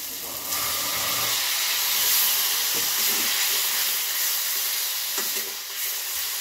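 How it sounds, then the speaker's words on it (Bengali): Potato and cauliflower frying with spices after a splash of water, a loud, steady steamy hiss and sizzle with occasional stirring knocks against the pan. "আলু ফুলকপিটা মশলার সঙ্গে কষিয়ে নেওয়ার জন্য সামান্য একটু জল দিলাম"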